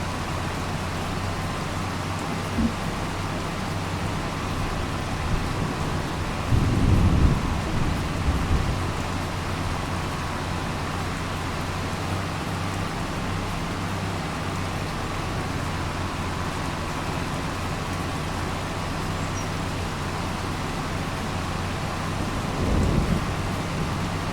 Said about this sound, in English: I think it's raining out